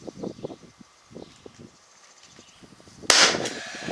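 A 16 gauge nailer fires a 1.25 inch nail into trim with one sharp, loud pneumatic crack near the end, preceded by soft handling knocks and clicks.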